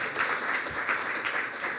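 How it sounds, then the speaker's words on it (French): A conference audience claps steadily, a dense even patter of many hands at moderate volume with no pauses. "Vous pouvez les applaudir à nouveau"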